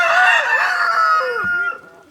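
A rooster crows loudly and close in a coop holding Rhode Island Reds, one long wavering call that trails off into faint clucks.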